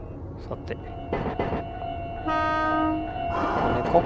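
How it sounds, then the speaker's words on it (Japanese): A hidden horn on an Iyo Railway Moha 2000 class tram, car 2005, in Densha de Go! Ryojōhen, sounds as a steady multi-tone blast lasting under a second amid rolling running noise, with a voice talking around it. "隠し警笛があるっていうのはありがたいですよね"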